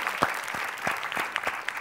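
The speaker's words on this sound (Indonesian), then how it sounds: "tepuk tangan dulu buat Aca karena menang 4-1" Studio audience applause at an Indonesian TV game segment, a steady dense patter of clapping with a few sharper claps standing out, moderately loud and continuous throughout.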